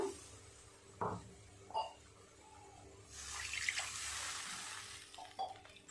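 Water is poured into a pan of fish curry in one brief, soft splashing gush lasting about a second and a half, with a few faint clinks of utensils before and after in a quiet kitchen.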